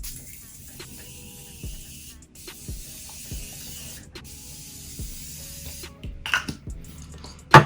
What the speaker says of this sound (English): I'm going to use the Morphe Continuous Mist, the mini Sweet Peach one that they came out with recently.